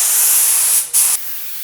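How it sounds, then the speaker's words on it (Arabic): A spray gun mists wood stain onto a wood panel in a steady close hiss, broken by a brief pause before a short burst and then a softer continuing spray. "وهنفتح المسدس من هنا علشان يفرش معانا ويخلي الرش بتاعنا شمسيه"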